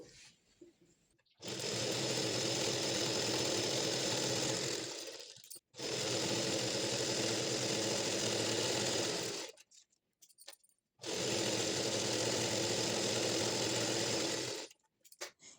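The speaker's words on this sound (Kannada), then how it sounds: "ಎರಡೂ ಕಡೆನೂ ಈ ರೀತಿ ಸ್ಟಿಫ್ನ ಕೊಟ್ಟು ಫೋಲ್ಡ್ ಮಾಡಿ ಸ್ಟಿಚ್ ಮಾಡಿದ್ದಾಯಿತು" Sewing machine stitching patiala pant fabric, three long steady bursts of close, loud motor whir and needle chatter separated by short pauses.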